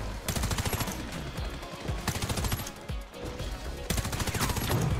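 Rapid automatic gunfire from a weapon in Warface, loud and close, in sustained bursts with a brief lull near the middle before firing resumes.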